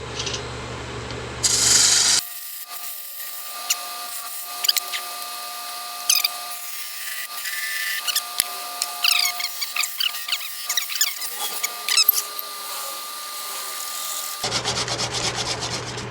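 A wooden tenon is worked into its joint with short scraping and rubbing strokes and small knocks, close and fairly loud, in irregular bursts between quiet gaps.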